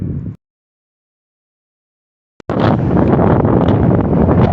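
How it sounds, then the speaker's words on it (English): Gusty wind buffeting a microphone on a bicycle ridden into a headwind, a loud roaring rush that cuts out abruptly near the start, leaves a gap of silence, then returns steady and strong after a brief thump. "I said that I didn't think the wind would impact me today, but yeah, now I'm riding straight into it"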